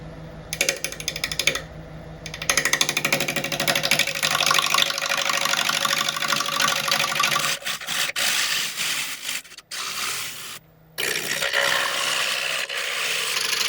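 A woodturning lathe flattens a wooden burl with a tool, giving a steady loud rasping, rubbing scrape with brief pauses where the cut stops and restarts.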